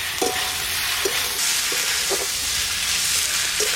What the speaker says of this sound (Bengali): এবার ভাজা আলুটা দিয়ে দিচ্ছি